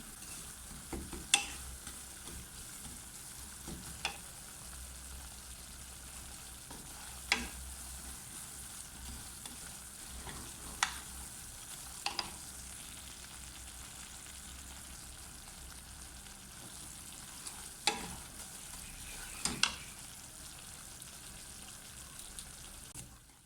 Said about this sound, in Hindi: हमारी सूजी को 3 से 4 मिनट हो गए हैं फ्राई करते हुए।